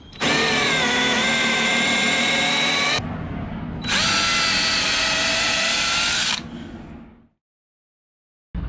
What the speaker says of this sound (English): The plank has been countersunk and pilot holes have been drilled in all the right places.